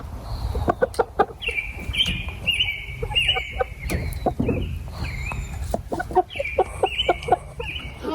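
Backyard chickens, including a young rooster, give a close, busy run of short clucks and calls, with lighter bird chirps mixed in.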